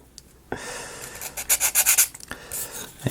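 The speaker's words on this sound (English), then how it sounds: "while I'm doing my sanding here" Rapid scratchy rubbing strokes, close by, in a quick back-and-forth burst after a brief pause, like sandpaper worked over wooden pieces of a Flying Dutchman model kit.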